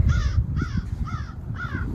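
A crow caws outdoors four times in an even rhythm, loud and close, over steady wind-like rumble.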